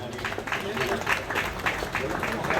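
Brief applause from an audience at a civic groundbreaking ceremony in Bhavnagar, rhythmic clapping running throughout under a busy, reverberant room.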